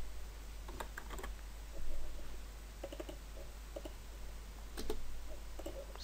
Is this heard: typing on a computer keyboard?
yes